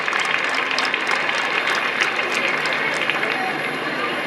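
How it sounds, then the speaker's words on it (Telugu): An audience claps together for a speaker's father, Narayana, at a gathering, a dense steady applause that holds at even strength throughout with some talk mixed in. "సో ఒక్కసారి చప్పట్లు కొడతామా మళ్ళీ?"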